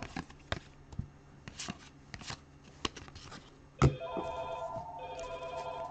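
A telephone ringing indoors during a live stream, bursts of electronic trilling tones coming in after scattered sharp clicks and knocks, fairly close and steady toward the end.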